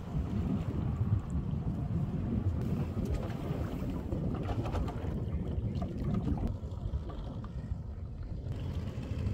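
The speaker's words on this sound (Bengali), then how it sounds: "আরেকটি নৌকা চলে আসছে।" A boat approaches across a wetland lake under dark rain clouds, heard as a continuous low engine drone and water wash mixed with strong wind buffeting the microphone, steady and fairly loud for the whole stretch.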